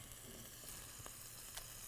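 Lemongrass chicken burgers sear in a hot pan, giving a steady, dense sizzle with occasional small pops and crackles, fairly quiet and continuous with no talking.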